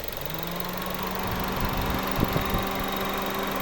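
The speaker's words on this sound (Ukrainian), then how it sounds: "Ось робота двигуна." A 2009 Mazda 6 2.0 petrol engine idles steadily nearby, a continuous low hum with faint rhythmic knocking and a few brief clicks, no talking.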